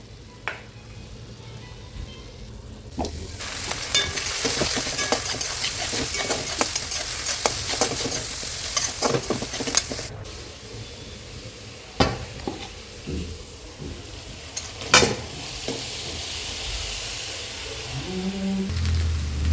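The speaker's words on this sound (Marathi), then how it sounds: "सो आता मी पोहे हलवून घेतले आणि त्यामध्ये टाकले शेंगदाणे," Poha (flattened rice) frying in a pan is stirred, with a loud, close sizzle that swells midway and repeated scraping strokes and knocks of a spoon against the pan, no talking.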